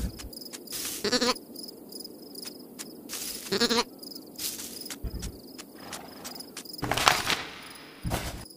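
Sheep in the game Carto bleat in short, repeated calls at irregular intervals, fairly close, over a steady chirping insect-like background.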